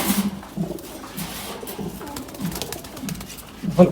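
Pigeons coo close by, low throaty murmurs repeating over a soft background hum, with a louder burst of cooing near the end.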